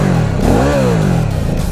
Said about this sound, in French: Regarde ça, comment ça pétarade.